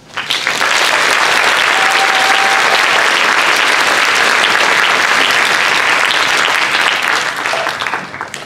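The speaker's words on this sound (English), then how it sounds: "let's give our musicians and performers another round of applause" Loud, sustained applause from a concert audience for school musicians and performers at a middle school winter concert, dense clapping swelling quickly and holding for several seconds before tapering off.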